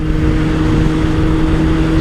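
A 1998 Suzuki Bandit 600N four-cylinder motorcycle engine with rebuilt carbs runs close by, giving a loud, steady drone with a constant hum and no speech over it.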